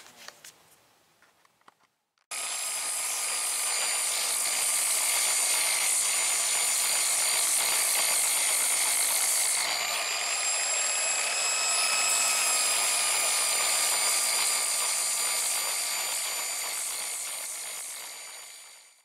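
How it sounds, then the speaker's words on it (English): After a few faint clicks, a random orbital sander with 80-grit paper starts up on fiberglass and whines steadily with a high, buzzing tone, shifting pitch slightly midway, then winds down. "Sand it with the 80 grit on the DA."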